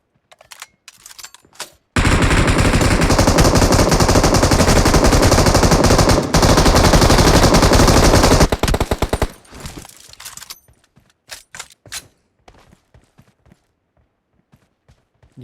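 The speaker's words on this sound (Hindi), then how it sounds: "ये जो मशीन गन है ना," Video game machine gun unleashing a loud, continuous burst of rapid fire lasting several seconds, then trailing into scattered single shots and sparse clicks.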